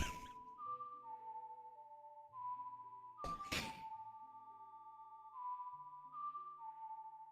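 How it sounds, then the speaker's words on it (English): A whistled melody from The Legend of Zelda: Ocarina of Time PC port, clear sustained notes with shifting pitches, alongside a soft low accompaniment and a brief loud thump near the middle. "He's supposed to be whistling"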